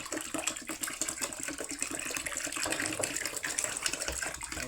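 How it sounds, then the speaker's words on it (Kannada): Liquid seed-treatment product being mixed into three litres of water, a steady churning, splashing water sound that stays fairly loud and continuous throughout, with no talk. "ಇವಾಗ 3 ಲೀಟ್ರ್ ನೀರಿಗೆ ಮಿಕ್ಸ್ ಮಾಡಿಬಿಟ್ಟು ಬೀಜೋಪಚಾರ ಮಾಡ್ತಾ ಇರೋದು."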